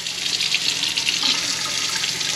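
Cold water runs steadily from a tap fed by a fresh water tank being sanitized, a constant close hissing splash with no pauses.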